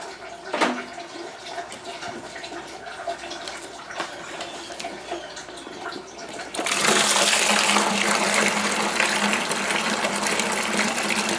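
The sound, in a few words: pouring grape must into a wine fermenting bucket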